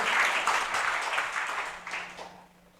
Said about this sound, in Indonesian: Yes, kasih tepuk tangan yang dahsyat buat Tuhan Yesus Kristus.